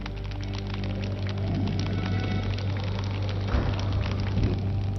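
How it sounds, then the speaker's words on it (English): A rain shower falls in the video game Burly Men At Sea, a steady dense patter of drops with a low ambient hum beneath and a few louder splashes near the end. "On cue, a shower of rain tumbles over them."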